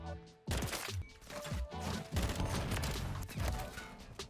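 Dense, rapid gunfire in Call of Duty starts abruptly after a brief pause and rattles on loudly and continuously in overlapping bursts of shots and impacts, with no voices.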